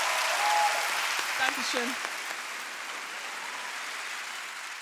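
Steady, broad audience applause at a televised singing competition, a continuous wash of clapping with a voice speaking briefly over it.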